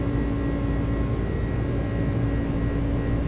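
A heavy FedEx Airbus airliner in Microsoft Flight Simulator roars at takeoff power on the runway, a steady, dense, unbroken engine rumble with a faint whine, loud and continuous without any voices.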